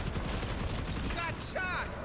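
Enemy gunfire in a video game, a rapid volley of shots up close followed by quieter bursts, with faint voice-like chirps over it.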